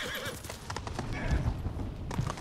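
In the PS5 game Ghost of Tsushima, a horse's hooves clop rhythmically and a whinny rises over rough in-game ambience, while a person talks over part of it.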